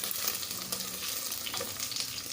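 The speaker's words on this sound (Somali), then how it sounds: "hilibka ha noo soo shiilmo" Meat sizzles and fries in a pan, a soft, continuous crackling hiss with scattered pops, fairly quiet and steady, with no talking over it.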